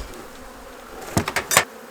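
Honeybees in a Kentucky beehive being readied for winter give a few short, close buzzing bursts near the end, after a low background hum.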